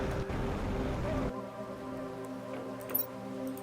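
Rain falling in the video game Planet Crafter, a dense hiss of rainfall that cuts off abruptly after a second, leaving a quieter hum with a faint rain patter and a small splash near the end.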